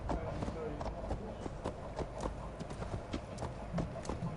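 Horse hooves clip-clop in a quick, even rhythm in a PS5 video game, close and continuous. A voice speaks over the hoofbeats.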